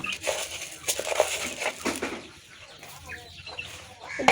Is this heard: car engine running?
no